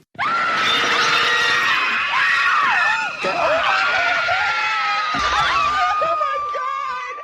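A woman screams loudly and continuously for several seconds, her shrill, wavering voice barely pausing, close and dominant with nothing else audible.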